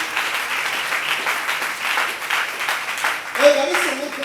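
A church congregation applauds continuously, dense clapping from many hands rising in a few swells, with a voice and a short musical tone emerging near the end.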